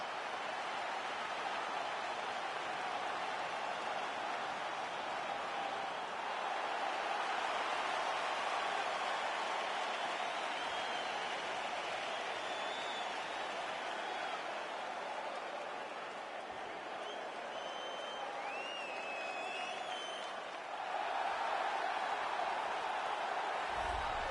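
A UFC 3 video game arena crowd roars as a fighter walks to the octagon: a dense, unbroken wall of cheering, dipping briefly and then swelling again toward the end.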